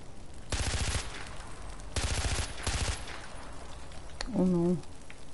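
Automatic gunfire from the video game Far Cry 4 comes in loud, rapid bursts with brief gaps between them, followed by a short voiced sound near the end.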